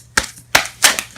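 Tarot cards spilling and slapping down during a shuffle, three quick sharp papery bursts about a third of a second apart, close and fairly loud in a quiet room.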